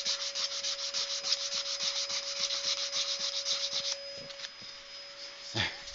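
Sanding a turned wooden dragon claw goblet on a lathe, a close, continuous abrasive rubbing with a rhythmic pulse over a steady motor hum, easing off and turning quieter partway through before a brief scuff near the end.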